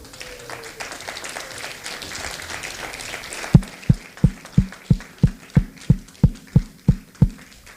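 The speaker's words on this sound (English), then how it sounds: "I'm the only one clapping." A single person claps alone at a scientific conference: about a dozen sharp, evenly spaced claps following a stretch of murmuring room noise and brief speech.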